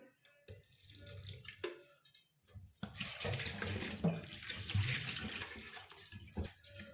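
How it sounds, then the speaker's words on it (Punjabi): A little water is poured over strained cream residue held in cloth while making homemade ghee, giving close splashing and trickling bursts that start and stop, with a louder steady pour in the second half. "ਹੁਣ ਅਸੀਂ ਇਹਦੇ ਤੇ ਨਾ ਥੋੜਾ ਜਿਹਾ ਪਾਣੀ ਪਾਵਾਂਗੇ"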